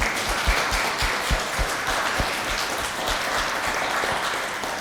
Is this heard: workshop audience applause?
yes